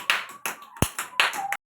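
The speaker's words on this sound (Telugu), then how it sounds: "క్లాప్స్ కొట్టండి." Children clap their hands in several short bursts of quick, sharp claps, close and fairly loud, with brief pauses between bursts and no talk.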